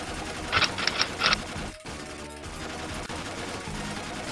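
Rapid bursts of gunfire from the Aero Fighters (Sonic Wings) arcade shooter, three quick rattling volleys near the start over a steady background of game music and arcade noise.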